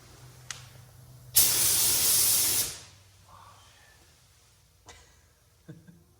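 A spray can of primer hisses in one loud burst of about a second and a half over a Plymouth Sport Fury body, with a few faint knocks and clicks in the quiet before and after.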